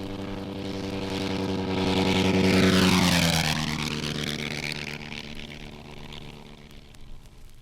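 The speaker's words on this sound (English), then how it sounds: "Listen now as a 1916 Nieuport flies by, its guns blazing." A 1916 Nieuport fighter plane flies past, its propeller engine droning louder as it approaches, then falling sharply in pitch as it passes overhead and fades into the distance.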